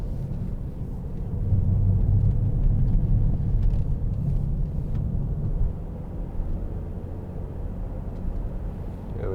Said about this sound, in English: I'll just give it some gas here